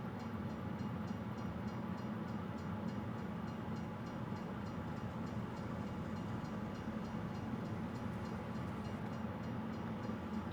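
A train in the farming video game Farming Simulator 22 gives off a steady, continuous rumbling drone at low level, unchanging throughout with no distinct events.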